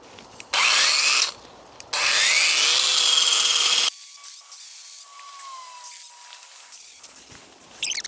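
A Parkside chainsaw trimming trees outdoors runs in two loud, sustained bursts of revving buzz, then drops to a lower idling hum with faint scattered noises.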